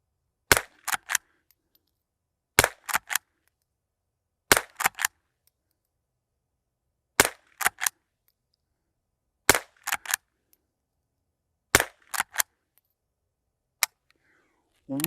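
Rimfire shots from a CZ rifle firing Eley Club Xtra ammunition at a range, sharp close cracks in pairs and small clusters separated by silent pauses, about a dozen reports in total.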